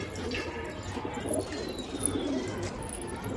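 Pigeons kept by a pigeon fancier, soft cooing and brief chirps nearby over a murmur of outdoor background noise.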